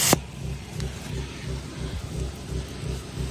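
A 1967 Ford engine, freshly revived after 28 years in storage, runs with a loud, lumpy, pulsing idle and rhythmic chugging, close by and steady throughout, with a sharp clank at the start.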